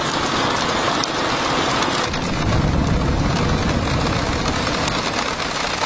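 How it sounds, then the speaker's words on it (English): Steady, dense rain pours down without a break near a river, a broad hiss with a heavier low rumble like rushing water underneath. "The sound of the rain and the river is simply breathtaking."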